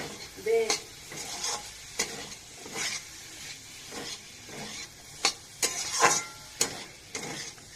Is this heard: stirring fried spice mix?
yes